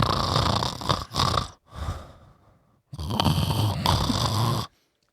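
A person imitates snoring with deliberate, loud, rasping snorts close to the mic, in two drawn-out bursts separated by breathy pauses.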